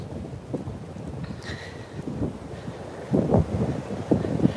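Strong wind buffets the microphone outdoors on a cold 22-degree day on historic Main Street in Stevensville, Maryland, a steady rough rumble with gusty swells and no talk.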